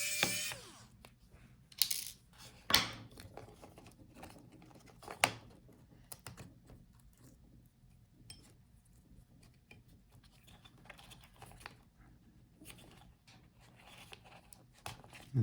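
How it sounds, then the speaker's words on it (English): A screwdriver backs out small screws inside a Dell Precision 5480 laptop, giving faint scattered clicks and ticks with a few sharper knocks over quiet. "Unscrew these two screws."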